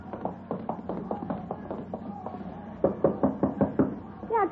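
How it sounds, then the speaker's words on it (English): Knuckles rapping on a door, a steady series of close, sharp knocks with a louder burst of raps toward the end. "You knock on the door."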